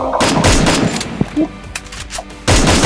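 Gunfire in a team shooter video game: loud, close rapid shots and short bursts come in clusters with brief lulls between them, then a dense volley at the end, with faint player voices in the background.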